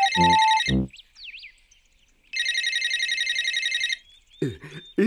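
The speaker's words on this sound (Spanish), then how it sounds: "Este celular hace un poco de ruido." Mobile phone ringtone: an electronic warbling trill that plays loud and close in two long bursts, separated by short tones and squeaks, with a brief voice at the end.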